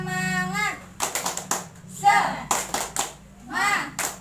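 A group claps in quick rhythmic bursts between short vocal calls, with a speaking voice at the start.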